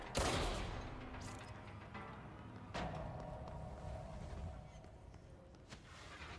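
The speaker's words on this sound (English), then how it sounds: "that's the ricochet I'm hearing." Sharp gunfire bursts with ringing ricochet whines trailing off in the game Control, a loud crack at the start and another midway, over a busy rumbling game soundscape.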